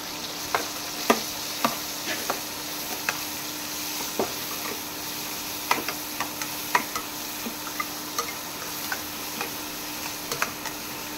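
A single onion sautéing in a pan gives off a steady low sizzle, punctuated by light, irregular spatula taps and stirring clicks close by, with no talking.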